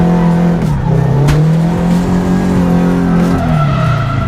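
Drift car skidding hard and tapping a wall, a loud sustained engine drone with steady harmonics under squealing tires, a sharp brief impact near the middle, and no talk.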